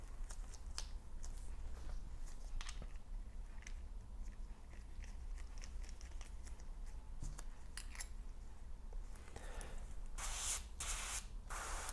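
A reassembled Iwata Neo airbrush: quiet handling clicks and faint rustle give way near the end to several short, bright bursts of air hissing through the nozzle.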